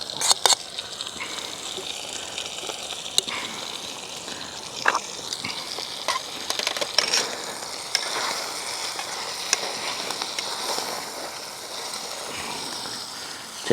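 Food sizzles and fries in a pan on a camping stove, a steady close crackle broken by occasional clinks and scrapes as it is stirred, with no talking.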